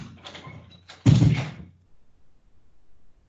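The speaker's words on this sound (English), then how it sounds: "Door closing." A door closes with a single dull thud in a meeting room, following some soft muffled sound and then fading into quiet room hum.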